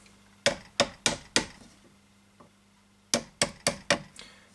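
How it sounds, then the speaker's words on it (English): Light brass-faced hammer taps on a block to loosen a guitar nut: two close groups of four sharp, bright knocks, evenly spaced, with a faint steady hum underneath. "we're going to give it a couple of light taps with the brass side of this hammer"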